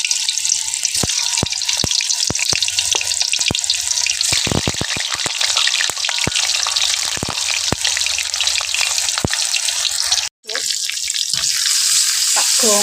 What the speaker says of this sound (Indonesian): Tak gongso dulu bumbu semurnya, pemirsa, sama goreng tahu ini.